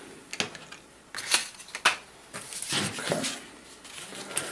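Scissors cutting out a fabric gusset shape, with sharp snipping clicks and rustling fabric in irregular bursts, close up and with no voices.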